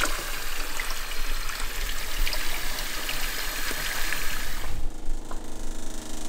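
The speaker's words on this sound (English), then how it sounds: "Now we're gonna try turning on the water in one of the faucets." Water runs steadily from a faucet in an off-grid home fitted with a UV water purifier, a constant hissing stream that stops abruptly near the end, with no voices.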